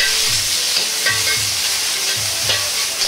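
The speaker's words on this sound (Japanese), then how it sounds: "茹でた絹さやをごま油で軽く炒めます" Boiled snow peas are stir-fried briefly in sesame oil, giving a steady, close, loud sizzle with light tossing and stirring scrapes throughout and no voices.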